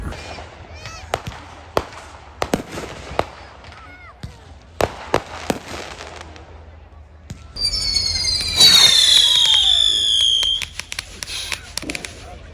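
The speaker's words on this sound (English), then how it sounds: "We have people all around with their personal fireworks displays. Some guy across from me with a mortar shooting off the big aerials" Personal fireworks and mortar-launched aerial shells go off across an outdoor gathering, sharp scattered bangs and cracks from near and far, then a dense burst of crackling and whistling in the middle.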